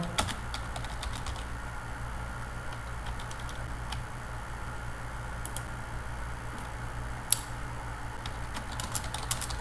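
Fast, steady keyboard typing sounds carry on without a break over a low background hum, with a few sharper clicks standing out. No one speaks.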